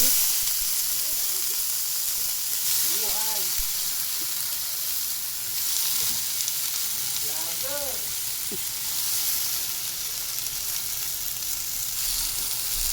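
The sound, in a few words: vegetables added to sautéing garlic, onion and liver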